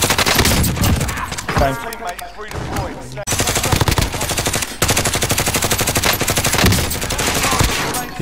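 Rapid automatic gunfire from the video game Call of Duty Warzone, bursts of loud shots filling most of the clip with a brief lull in the middle, while a player speaks briefly over the action.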